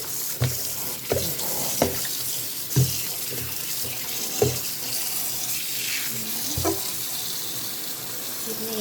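Tap water runs steadily into a sink while wood ear mushrooms are washed by hand, with a continuous close rush broken by repeated splashes, knocks and handling noises.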